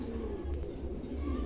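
Low soft cooing of pigeons in a seller's pen, a short faint murmur of repeated coos with no talk.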